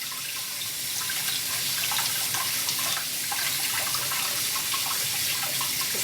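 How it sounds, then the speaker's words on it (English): Brass hardware rinsed under a running kitchen tap, with a steady rush of water splashing continuously at close range. "now I'm ready to rinse it off with straight tap water."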